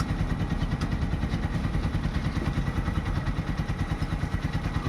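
A new motorcycle engine idles steadily nearby, a continuous even chugging putter with light mechanical clatter and no voices over it.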